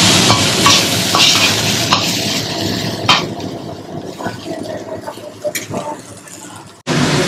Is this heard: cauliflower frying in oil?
yes